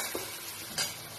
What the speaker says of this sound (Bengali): এবার এই পোড়ানো নারকোলটা দিয়ে দিলাম, একটু হালকা করে ভেজে নিচ্ছি।